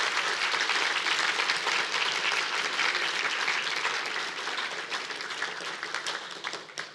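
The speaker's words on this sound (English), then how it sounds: "let's give them a big round of applause." Sustained audience applause fills a youth sports season-end awards ceremony for the Lake Ridge Lancers, dense clapping that continues steadily before slowly thinning toward the end.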